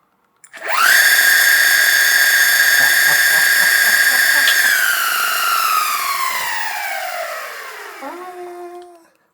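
A MEEPO Hurricane bamboo electric skateboard motor whines loudly as it accelerates in third gear, a rising high-pitched electric whir that holds steady, then falls away and fades after several seconds.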